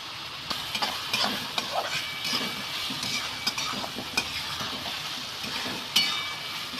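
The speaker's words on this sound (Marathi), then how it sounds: "आता हे टमाटर घातले तेलामध्ये, त्याला व्यवस्थित तेलामध्ये परतून घ्यायचं आहे." Chopped tomatoes sizzle in hot oil in a pan for egg bhurji, with a steady frying hiss punctuated by occasional scrapes and clinks of stirring.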